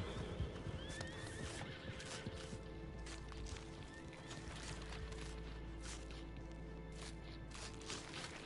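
A horse in Red Dead Redemption 2 whinnies and gallops away, its neighing loud and close over steady hoofbeats, with game ambience running beneath.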